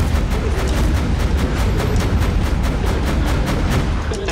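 Gunfire in the video game Borderlands: The Pre-Sequel as a Scav carries a legendary shotgun, with a dense, continuous barrage of rapid booming shots and no pause.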